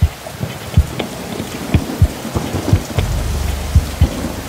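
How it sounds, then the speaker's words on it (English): Heavy rain pours steadily in a drama scene, with repeated sharp cracks and low thunder rumbles scattered through, loud and close, with no talking. "Both stood in the rain."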